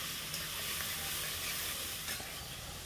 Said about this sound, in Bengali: এখন ভালো করে আমি নেড়ে চেড়ে দেবো